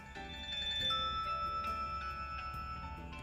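Nokia Tune ringtone playing from a Nokia 1200 phone, a thin electronic melody of short tonal notes, moderately quiet and unaccompanied by speech.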